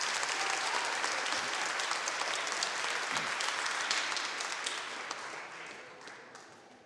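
A school athletic awards ceremony audience gives a steady round of applause for its 7th grade athletes, dense clapping from the crowd that holds strong before tapering off toward the end.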